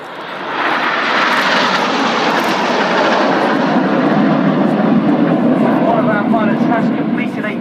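Red Arrows jets flying in formation at an RAF air display, a loud, steady broadband engine roar that swells in and holds throughout, with an announcer talking over it.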